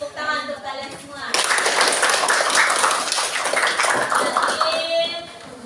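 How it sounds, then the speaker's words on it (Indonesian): Students in a classroom break into a burst of clapping that swells loud and dense, then tapers off, with a teacher's voice speaking before and over it. "Jadi tepuk tangan untuk kalian semua."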